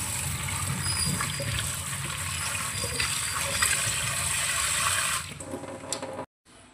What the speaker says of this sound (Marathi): आता याला आपण पाण्याने 4 ते 5 वेळेस धुवून घेऊ। यातला जो पांढरेपणा असतो, स्टार्च असतो, तो सगळा निघून गेला पाहिजे।